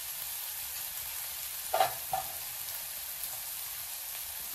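Spices and red chili powder sizzle with softened onion in a pan, a steady close frying hiss broken by a couple of brief stirring scrapes.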